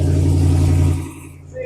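A loud truck engine rumbles close by, then fades as it pulls away, with a brief bit of talking near the end.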